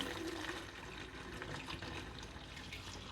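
A cleaning mixture for washing windows is poured into water, a soft continuous splashing and trickling heard up close at low volume, with no voices.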